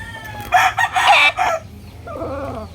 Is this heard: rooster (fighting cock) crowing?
yes